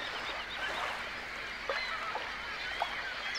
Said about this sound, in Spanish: Todos esos pájaros en una estación. Es impresionante.